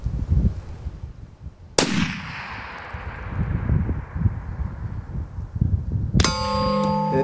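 .338 Lapua Magnum rifle fired at a steel target about 2,100 meters away: a sharp, loud report, then a long rumbling echo, and later a bright ringing clang as the bullet strikes the steel.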